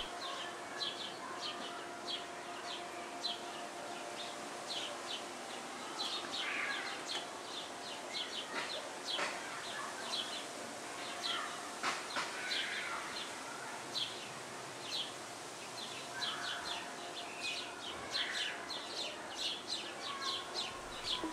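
Finches feed at a garden sock feeder filled with Niger seed, with steady high chirps and twittering throughout over a faint background hum.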